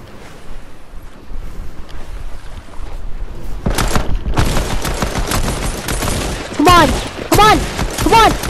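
Dense bursts of Fortnite gunfire erupt after a quieter opening, loud and rapid, with sharp repeated shots crowding the second half of a video game battle.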